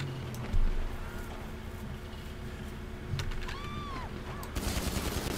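Pistol fire in GTA 5 Online: a few sharp gunshot cracks over a quieter game background, with a sudden louder burst of noisy action near the end.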